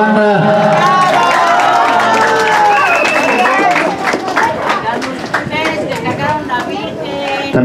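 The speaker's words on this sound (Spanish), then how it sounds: "¡Fuerte el aplauso también para la banda!" Crowd applause and cheering for a band at an outdoor Virgin of Guadalupe festival in Mexico, a loud sustained wash of clapping and voices with music-like tones mixed in.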